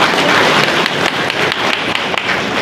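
Dense, continuous applause from a crowd, many hands clapping at once in a steady, loud wash with no individual claps standing out.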